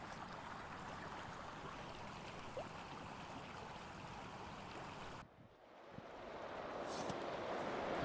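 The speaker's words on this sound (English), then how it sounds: "The wind's blowing like 25 miles an hour." Strong winter wind, gusting around 25 miles an hour along the Provo River, buffets the microphone in a dense, steady rush, briefly drops off, then swells back louder near the end.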